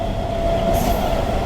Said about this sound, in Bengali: ট্রেন এই মুহূর্তে প্রবেশ করছে মুর্শিদাবাদ জংশন